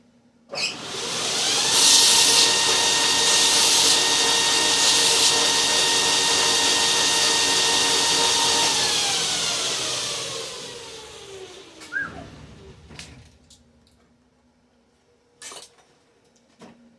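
A power grinder or sander on a sled build whirs up to a steady high whine for about nine seconds, then winds down in pitch and stops, followed by a few sharp knocks and clatter.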